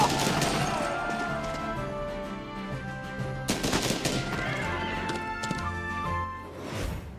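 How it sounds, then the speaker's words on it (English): Rifle gunfire in the strategy video game Banner of the Maid, loud sharp shots with crashing impacts over a busy musical game soundtrack, a burst near the middle then more bangs. "gonna attack with a rifle. Shoot him here."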